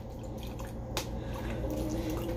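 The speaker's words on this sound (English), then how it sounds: "We're gonna put some water in it." Water runs and drips as it is poured into a plastic bottle over a kitchen sink, giving a steady close trickle with one brief splashy burst near the start.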